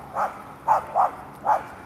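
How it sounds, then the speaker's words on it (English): Dogs bark in four sharp, separate woofs, spaced unevenly over under two seconds against a quiet background, moderately near. "The dogs are barking."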